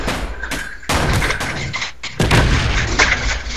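Ship weapons and rockets firing in a large ship battle in the Space Engineers video game, a series of heavy booming blasts and thuds in irregular bursts, loud and close, with no talk.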